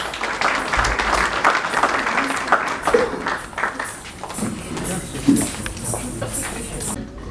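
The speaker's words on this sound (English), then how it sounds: "let's please give her a warm round of applause" At a commemoration of Indian indentured labourers' arrival in KwaZulu-Natal, an audience applauds for a dance performance, scattered clapping mixed with voices and hall noise.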